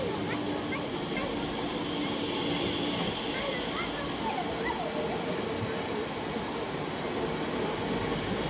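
An Intercity train arriving at Gotha station, heard as a dense, continuous rolling roar and rumble with faint squeals, steady and fairly close, with voices mixed in.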